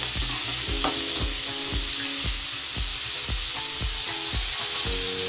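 Lobia (cowpeas, also called chauli) roasting in a pan with steady frying hiss and repeated rhythmic scraping strokes of a spoon stirring, close and continuous.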